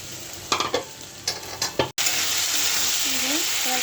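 Potato pieces fry in hot spiced oil in a pan, a loud continuous sizzle broken by several sharp scraping stirs of the spoon before the frying settles into a steady hiss.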